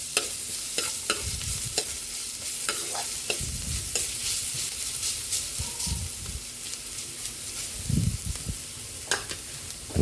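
Garlic and ginger frying in a pan with a steady close sizzle, punctuated by repeated scraping and knocking of a spatula stirring against the pan.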